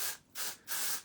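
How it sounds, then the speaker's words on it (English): An aerosol can of deodorant hisses out in two short bursts, each a loud, broad spray separated by a brief pause, close up and with no voices. "But what you don't want to be using is this spray stuff."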